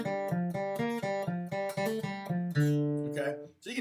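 Bluegrass phrase on guitar in a lesson setting, a run of evenly picked notes followed by a sustained note with a hammer-on, clear and close, played alone.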